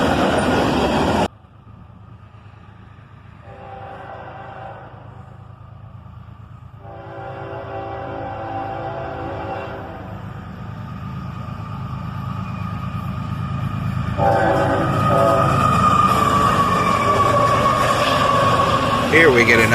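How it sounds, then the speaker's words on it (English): A speeding northbound CSX train led by SD40 and AC44CW locomotives rumbles past steadily, its roar building louder toward the end with rising squeal and rail noise. "Later that day we'd catch this speeding northbound, led by an SD43 and a YN2"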